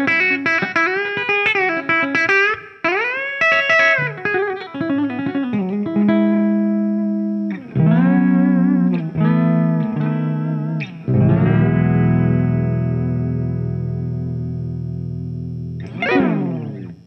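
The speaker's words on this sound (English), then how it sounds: "Let's move to the bridge humbucker clean, and we'll see how it sounds." Clean electric guitar on the bridge humbucker of a Vigier Excalibur Supra, playing sustained chords and single-note bends with chorus-like shimmer, ringing out loud and alone, ending on a long held chord and a final strum.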